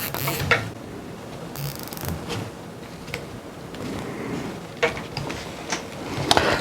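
Zip ties are ratcheted tight around bundled wiring on a custom Prusa Bear 3D printer, giving bursts of quick clicking at close range amid handling noise.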